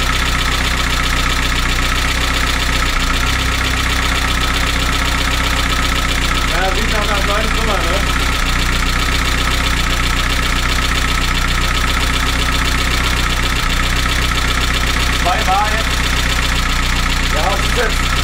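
An Opel Speedster Turbo Stage 5 Evo engine idles steadily after its first start following a rebuild, a continuous loud rumble with people speaking briefly over it.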